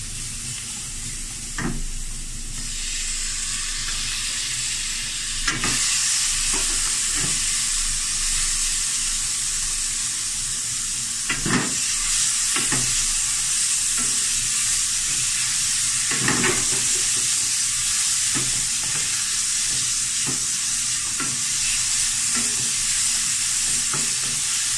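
Lean pork and garlic stir-fry in a wok with a steady loud sizzle, broken by repeated scraping strokes from a spatula at irregular intervals, close up with no talking.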